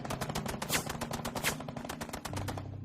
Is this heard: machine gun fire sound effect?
yes